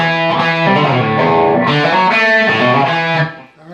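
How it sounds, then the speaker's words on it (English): A distorted electric guitar plays an intro lick, a quick run of pull-offs and a hammer-on, loud and close with sustained overdriven notes that fade at the end. "We're going to do 3 measures of the very intro first lick, where we do the pull-offs and then the hammer-on."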